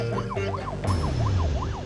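An emergency vehicle siren wails in fast rising and falling sweeps, loud and near, over a low engine rumble.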